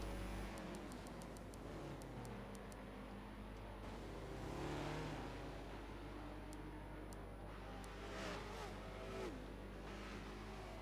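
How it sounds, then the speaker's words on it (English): Race cars run flat out at Road America in a Forza P2 endurance race, a steady, continuous engine drone with faint periodic ticking over it, at even loudness throughout and with no talking. "You see the cars going flat out through that section again."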